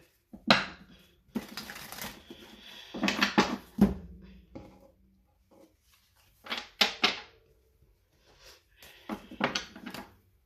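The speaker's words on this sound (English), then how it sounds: "I'm going to shuffle some of these back up." Tarot cards being shuffled by hand, a series of crisp riffling and slapping bursts in uneven clusters, close and moderately loud, with quiet pauses between them and no talk.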